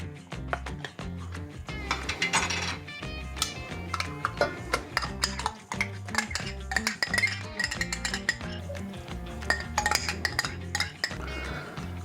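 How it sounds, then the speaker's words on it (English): Cherry preserves are emptied from two jars into a cooking pot, with repeated clinks and clatters of glass and metal, scraping and dull knocks sounding up close in an uneven, busy rhythm with no talk. "So let's get those 2 jars dumped in the pot"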